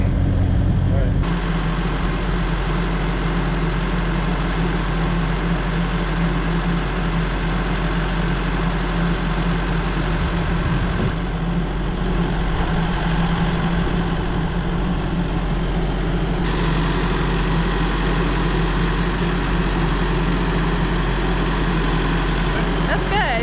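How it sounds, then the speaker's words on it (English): A tractor engine runs steadily with a low, continuous rumble while pulling a fence post out of the ground at a goat fence, with people talking over it throughout. "Since we have the tractor here, we decided to try and pull that one post she drove in too deep out"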